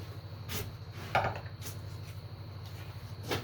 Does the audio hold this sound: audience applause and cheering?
no